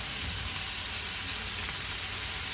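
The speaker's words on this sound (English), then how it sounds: "We're gonna throw us on some bacon, because these are going to be bacon smash burgers." Costco applewood smoked bacon sizzling on a Blackstone griddle for smash burgers: a loud, steady, close frying hiss that runs unbroken throughout, with no talking.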